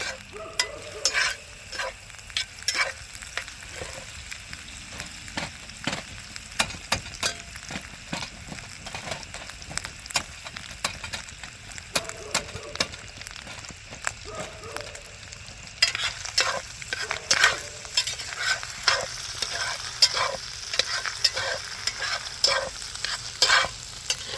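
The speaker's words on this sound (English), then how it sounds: "This fire's coming out at me" A camping stove fire crackling at close range, dense irregular pops and snaps over a low sizzle, continuing steadily and growing a little brighter toward the end, with no talking.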